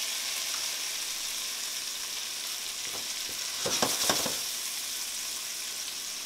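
Tomatoes sizzle in a hot frying pan for one serving of bucatini all'amatriciana, a steady soft hiss broken by a few louder crackling pops as they hit the oil.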